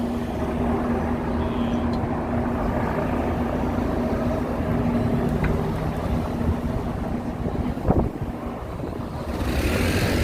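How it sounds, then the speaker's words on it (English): A helicopter hovers in one spot above a New York City street during an East Village EV festival, making a steady, loud rotor drone with a constant low hum that fills the whole stretch. "that's a helicopter that is hanging right there"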